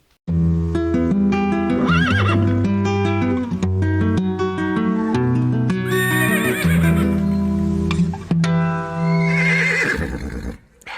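A large, aged horse whinnies loudly and close up in a long, shaky, pitch-wavering call, gives a second neigh, then falls quiet near the end. No voices are heard.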